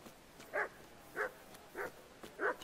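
A dog in the medieval RPG Kingdom Come: Deliverance gives four evenly spaced whining barks, moderately close over a quiet background.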